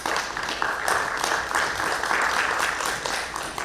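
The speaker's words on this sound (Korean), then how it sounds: "힘찬 박수로 환영해 주시기 바랍니다." Applause from attendees at an in-person civil defense unit leaders' training session in Daegu, a dense, steady burst of many people clapping throughout.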